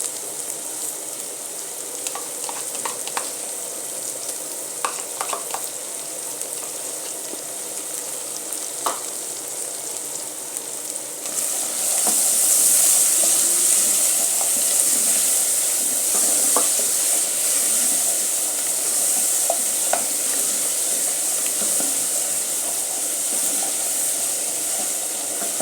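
Tomato paste fries and gets stirred in a hot pan for spaghetti sauce, a steady sizzle that swells louder about halfway through, with occasional scrapes and clicks of stirring.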